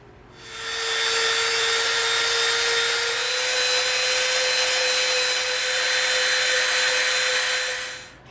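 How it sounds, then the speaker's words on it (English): A Dremel rotary tool rounds off the edge of EVA foam for a bolter prop, spinning up into a loud, steady high-pitched whine that holds for several seconds and then winds down. "now we're gonna get out our Dremel and we're gonna round this edge off"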